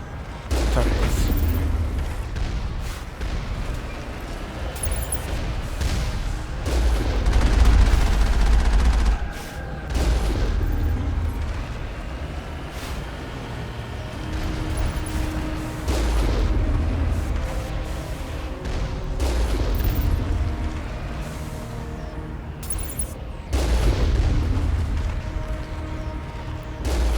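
Moving turrets firing during combat in Mass Effect, with repeated heavy bursts and booming gunfire recurring every few seconds, loud and continuous, mixed with game music and effects.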